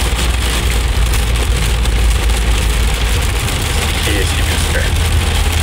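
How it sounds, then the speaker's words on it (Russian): Hail drums on a BMW 750Li while it drives, making a dense, steady, loud clatter over the low road and engine rumble, with someone speaking briefly over the noise. "А вот это уже плохо. Это град. Град, как известно, может подбить машину нормально так."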